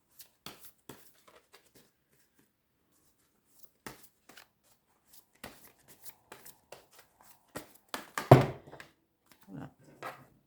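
Oracle cards are handled and shuffled in sparse, quiet bursts of close riffling and flicking, with long gaps between, ending in a louder cluster of shuffling near the end.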